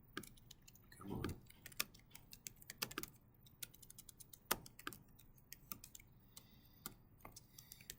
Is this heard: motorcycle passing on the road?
no